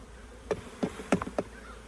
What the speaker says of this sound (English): we're going to shake the bees off